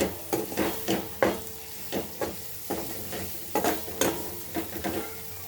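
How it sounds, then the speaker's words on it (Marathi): Capsicum sabji with gram flour is stirred and roasted in a pan, a spoon scraping and tapping in quick irregular strokes over a steady soft sizzle, close and fairly loud. "एक मिनिट असं याला आपण व्यवस्थित परतून घेऊया म्हणजे बेसन हे छान भाजले जाईल"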